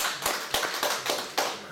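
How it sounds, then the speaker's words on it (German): Sparse hand claps at a press conference after an ice hockey game between the Crocodiles Hamburg and Tilburg Trappers, a few uneven, close claps in a quiet room. "einmal Applaus bitte"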